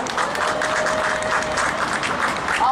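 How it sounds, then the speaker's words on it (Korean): Audience applause at an outdoor labor-struggle cultural evening with poetry and song, a steady dense clapping that fills the whole stretch, with a faint tonal whine running through it. "박수 부탁드리겠습니다"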